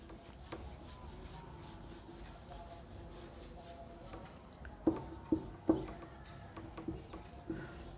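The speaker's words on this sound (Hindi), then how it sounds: "थोड़ा सा हम यहाँ नीचे लिखते हैं इसको" Chalk or marker scratches and taps on a board during a maths lesson, soft rubbing strokes with a few sharper knocks near the end, faint and close.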